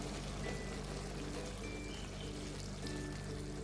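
Water is poured into a pot of fish pepper soup as a steady splashing pour under a constant kitchen hiss that holds for the whole stretch, with no one talking.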